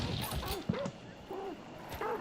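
Agitated dogs in a hunting video game give a few short, moderately loud barks and yips, spaced irregularly over game ambience.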